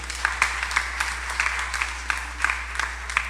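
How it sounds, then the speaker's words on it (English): A church congregation claps along during a Sunday morning sermon, a steady rhythm of fairly quiet claps with sharper accents recurring over a low hum. "Can you clap your hands on that this morning?"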